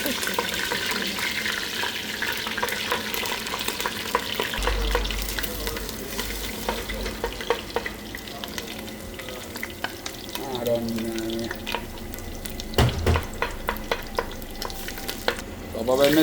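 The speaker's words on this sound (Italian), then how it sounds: "Adesso andiamo a sciogliere il concentrato" Tomato concentrate stirred and fried in oil in a pan, a loud continuous sizzle with scraping stirs and clinks of a utensil, close up throughout with no talking.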